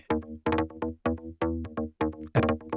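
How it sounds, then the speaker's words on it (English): A basic synth bass line from a club track, pulsing in short, punchy chopped notes with a steady dance groove, loud and alone without talk. "basically a bass sound"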